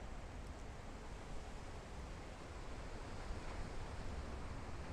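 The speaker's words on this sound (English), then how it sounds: "And now the wind's back." Wind blowing outdoors at dusk in November, a steady, even broadband rush that holds at the same level throughout with no other distinct sounds.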